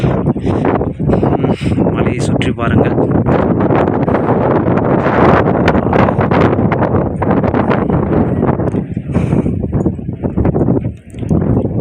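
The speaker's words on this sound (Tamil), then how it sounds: "காற்று மேலே அப்படியே வேறு லெவலில் அடிக்குதுங்க" Strong wind blasts across the summit of Parvathamalai near Tiruvannamalai, buffeting the microphone with loud, continuous roaring gusts while someone talks.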